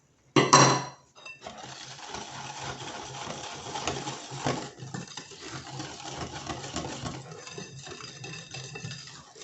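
A utensil stirring batter with 25 g of flour in a bowl, a steady scraping and light clinking that runs nearly unbroken, opening with a brief louder knock.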